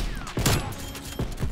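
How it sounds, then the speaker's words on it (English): Fast sniper rifle shots in the video game Black Ops Cold War: a few sharp, quickly spaced cracks, fairly close, over a constant game background noise with no speech. "Those shots were so fast."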